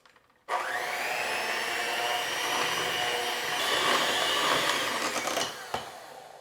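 A food processor starts abruptly and runs with a loud, steady motor whir as it mixes persimmon cookie batter, then winds down after about five seconds.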